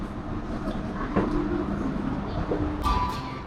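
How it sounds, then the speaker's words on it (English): Interior ride noise aboard a Japanese train moving through a tunnel: a steady close rumble and rolling hum with faint clicks and a brief high squeal near the end, no talking. "I'm on a train!"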